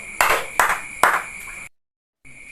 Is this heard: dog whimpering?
no